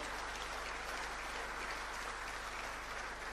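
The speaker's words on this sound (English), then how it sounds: "Let's continue to clap our hands." Sustained, dense applause from a large audience at a heads of state summit in Dar es Salaam, steady and even throughout with no pauses.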